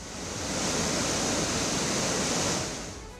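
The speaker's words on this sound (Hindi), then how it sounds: "देहरादून में ऐसा भयानक सैलाब अचानक आया" Flash-flood water from a cloudburst in Dehradun rushes in a dense, continuous roar of broadband noise, swelling in and fading out, with no voices present.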